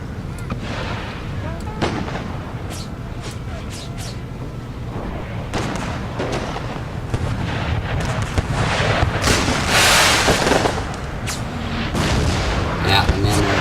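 Artillery cannon fire in the Civil War battle game Brother Against Brother on the Chattanooga battlefield, repeated booms and cracks scattered over a constant rumbling battle din, some near and loud, others more distant.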